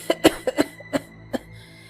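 A fit of close coughs, several quick harsh bursts in succession, followed by a couple more spaced coughs.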